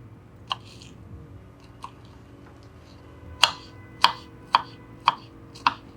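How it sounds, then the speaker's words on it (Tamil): A knife chops pineapple into small pieces on a board, giving a few sparse taps and then a quicker run of five crisp, evenly spaced chops, close and fairly quiet. "இந்த அன்னாசி பழங்களை வந்து சின்ன சின்னதாக வந்து கட் பண்ணிக்கலாம்"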